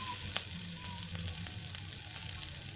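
Cabbage vadi slices frying in hot oil in a pan, giving a soft, steady sizzle and crackle that stays fairly quiet and close throughout, with no talking.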